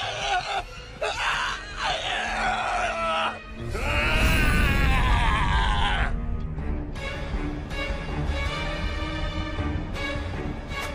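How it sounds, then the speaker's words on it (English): A long, strained scream from a character in an English-dubbed anime fantasy series rises over music and other voices, loud and drawn out for a couple of seconds before the scene continues beneath it. "What was with that scream?"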